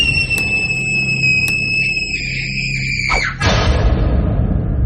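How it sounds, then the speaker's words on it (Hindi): A loud, high sustained scream in a horror audio drama, held steady for about three seconds over an eerie droning bed before sliding down and cutting off into a rumbling wash of sound. "करवट बदली और गुड्डू ने जो देखा वो देखकर उसकी चीख ही निकल गई"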